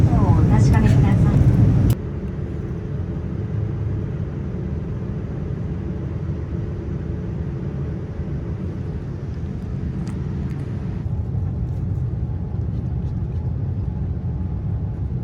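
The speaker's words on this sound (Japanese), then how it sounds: "皆様、パリシャルル・ド・ゴール空港に着陸いたしました。" Cabin roar inside an ANA airliner flying Haneda to Paris, landing at Charles de Gaulle Airport. A loud, steady broadband rumble shifts down after a brief louder opening, and a voice talks over it.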